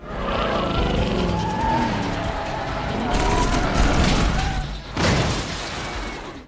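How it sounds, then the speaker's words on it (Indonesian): Cars in a movie car chase roar as they accelerate hard, with tire squeal and skidding layered over a loud, sustained engine rush and a sharp burst near the end. "Tim gimbal yang melihat targetnya kabur, mereka pun langsung tancap gas."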